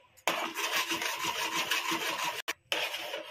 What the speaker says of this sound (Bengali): নাড়তে হবে খুব ভালো করে,